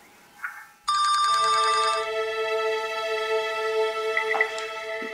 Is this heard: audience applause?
no